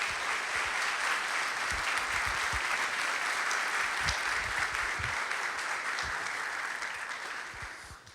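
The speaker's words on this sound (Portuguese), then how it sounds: "Eu queria uma salva de palmas para o René, por favor." Church congregation applauding a visiting speaker, a steady sustained wash of many hands clapping that fills the room evenly, with a few heavier low thumps, then tapering off toward the end.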